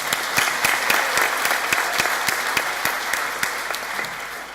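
Applause fills a college graduation ceremony for health, childcare and science students, a dense, even clapping from the seated crowd with sharp periodic claps standing out, holding steady and easing slightly at the end.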